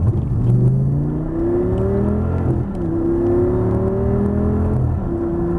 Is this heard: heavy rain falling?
no